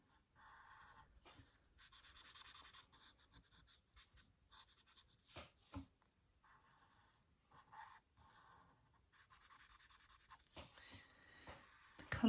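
Pen or felt-tip colouring in a stencil picture on card, a close, quiet scratchy rubbing in bursts of strokes with short pauses between them.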